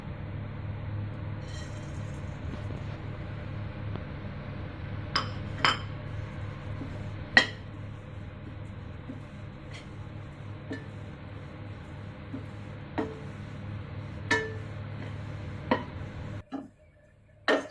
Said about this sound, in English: So we are going to dry roast the oats.